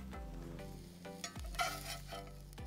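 Onions frying in oil in a cast iron pan over a twig-fed rocket stove, a quiet sizzle with a few scraping stirs and clinks of the pan, close and faint, no voices.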